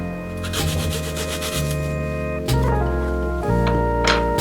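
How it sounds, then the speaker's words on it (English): A hacksaw cutting through fruit, giving a steady rasping, scraping stroke sound that runs continuously and close up, with a shift in stroke partway through and no talking. "I tend to use a hacksaw for a nice clean cut."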